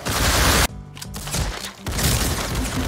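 AK rifle fire in Roblox Criminality, loud sustained bursts of gunshots that cut out abruptly, leaving a brief pause with a few faint sounds before another heavy volley resumes.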